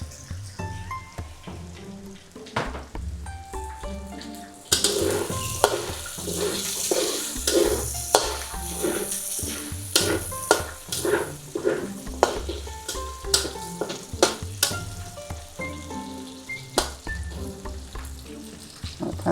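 Chicken pieces for three cup chicken stir-fried in a hot pan, a steady loud sizzle with repeated scraping strokes of the spatula, growing more intense partway through.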